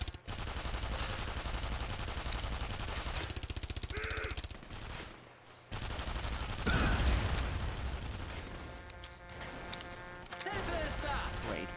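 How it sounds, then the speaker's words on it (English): Gunfire in the WW2 video game The Saboteur, bursts of rapid shots broken by short pauses, with music and game effects mixed in and fairly loud throughout. "The shooting started."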